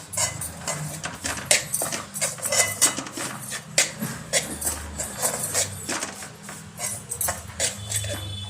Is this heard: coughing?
no